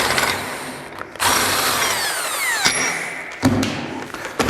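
A power tool spins out the bolt of a Polaris primary clutch in loud, close bursts of whirring with pitch sweeps, separated by brief pauses and followed by a few thuds.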